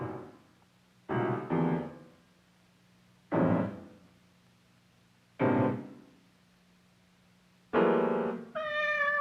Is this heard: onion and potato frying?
no